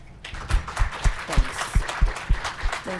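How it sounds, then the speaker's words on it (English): Scattered audience clapping at a security conference talk, a handful of distinct separate claps in a loose rhythm rather than a full ovation, fairly close and moderate in level. "Maybe a round of applause real quick."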